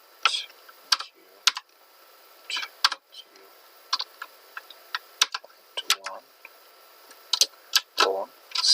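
Keys tapped on a computer keyboard in irregular short bursts, single crisp clicks and quick runs with pauses between, close and clear against a quiet background.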